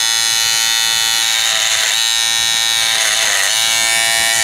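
Small battery barber clippers, freshly sharpened, run with a steady high-pitched electric buzz, close and loud, its pitch wavering slightly as the blades move through cutting.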